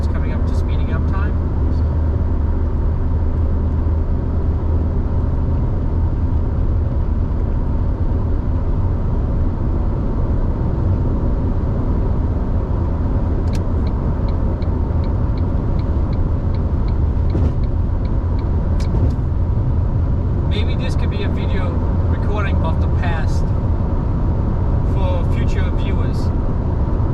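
Car recorded on a GoPro Hero10 while being driven, accelerating after slowing for a light; steady low engine and road rumble runs throughout, with faint higher tones near the end.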